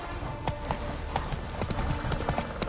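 Horse hooves clip-clopping at a steady rhythmic pace in The Witcher 3 video game, moderately loud and continuous over a low background, with no talking.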